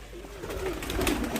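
Racing pigeons in a loft give soft, repeated throaty coos close by, a few low rolling calls over quiet background rustle.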